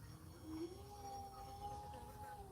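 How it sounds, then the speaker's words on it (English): A dog howls in the background, a sustained, wavering tone held steadily across the clip over a low household hum, faint and distant. "Can you hear my dog in the background?"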